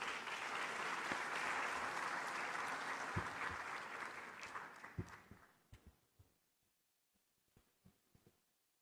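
A large audience at the 30th Afreximbank Annual Meetings applauds to welcome Ghana's Finance Minister Ken Ofori-Atta. A dense, loud wave of clapping holds for about five seconds, then thins into a few scattered claps that fade to near silence.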